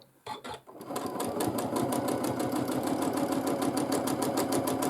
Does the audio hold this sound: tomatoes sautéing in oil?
no